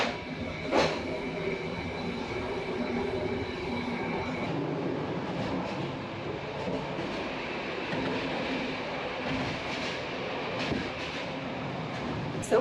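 A Sofia-to-Bucharest train rumbles steadily along its rails, a continuous rolling drone with occasional sharper rattles and clanks from the carriage.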